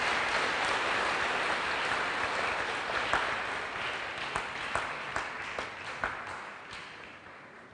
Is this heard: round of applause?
yes